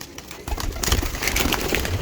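A Badshah pigeon coos close by, its soft, muffled calls rising out of a rough, noisy background after a brief quiet start.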